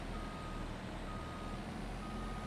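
A truck in the Farming Simulator video game is reversing, and its steady beeping alarm repeats over a constant low engine drone with no talk.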